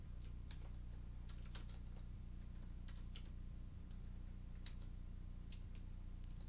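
Quiet, irregular clicks of keys tapped on a computer keyboard while playing the typing game Sir Clik's Adventures, scattered over a steady low hum with no voices.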